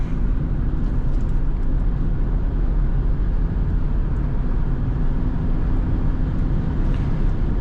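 A BMW 318d G21 with a 150 hp diesel engine accelerates on a highway, giving a steady, loud, unbroken roar of engine, tyre and wind noise throughout with no talking.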